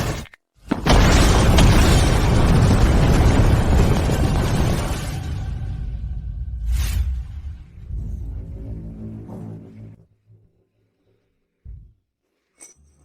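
A leftover war land mine set off by fireworks erupts in a sudden loud blast, followed by several seconds of roaring, crackling rumble and debris that fades, then a brief sharp pop and near silence.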